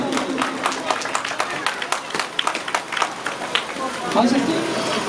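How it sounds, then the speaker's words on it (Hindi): Dense crowd applause at a Kehkshan Public School event in Bindian, with steady clapping for the assembled guests running through the whole stretch and voices mixed in. "तालियां जी अपने मौजूद मेहमान के लिए।"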